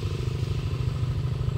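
Motorcycle engine idling or running close by on a rainy day, a steady low pulsing rumble with a rapid even firing rhythm throughout, no voices.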